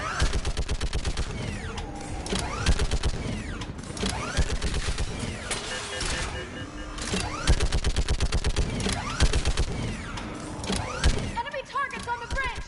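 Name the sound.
gunfire in the video game Mass Effect 3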